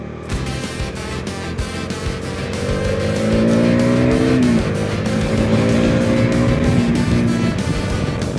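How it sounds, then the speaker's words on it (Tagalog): Heavy traffic on a wet road, with cars passing close by and a steady loud hiss of tyres and engines that swells and holds, alone without talk. "Dami sasakyan. Bumalik na yata ang Lunes ang traffic"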